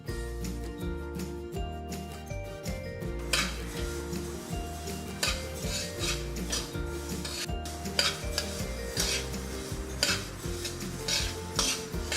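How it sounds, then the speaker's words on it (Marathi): Sesame seeds dry-roasting in a pan over medium heat, stirred steadily with a utensil that scrapes and rasps against the metal in a continuous rhythmic pattern, close and alone with no talking. "आता हे तीळ आपल्याला मध्यम आचेवर खमंग भाजून घ्यायचे आहे"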